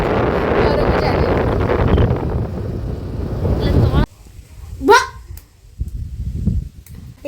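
Strong outdoor wind buffets the microphone with a loud, continuous roar that cuts off abruptly, leaving quieter surroundings with a brief higher-pitched voice or call and scattered noises.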